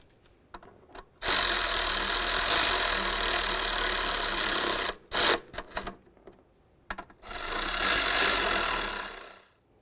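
Ratchet or power tool running down the upper intake manifold bolts on a 2009-2020 Dodge Journey during a gasket replacement, a loud sustained buzzing burst, then short choppy bursts, then another long run close by.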